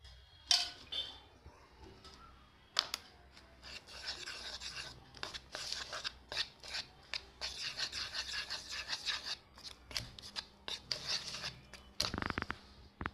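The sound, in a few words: mixing cake batter with cashews and raisins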